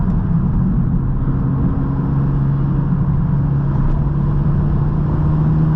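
A turbocharged car drives along a winding Arizona mountain highway, a steady low engine drone and road rumble heard from inside the cabin, constant and loud with no pauses.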